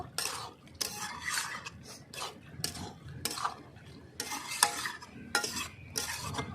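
A spoon scrapes and stirs young jackfruit curry with meat masala in a pot, loud rasping strokes repeating in an uneven rhythm over a faint sizzle.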